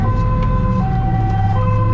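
An ambulance siren wails loudly and continuously at a Dutch accident scene, its pitch sliding up and down over a heavy low rumble of engines and road noise.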